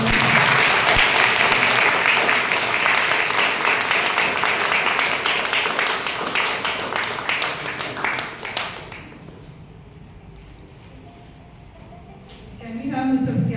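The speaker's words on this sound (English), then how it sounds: "Please give her a nice round of applause." Audience applause for a guest speaker at a community talk, loud sustained clapping that fades out after about nine seconds, followed by a quiet pause and a voice returning.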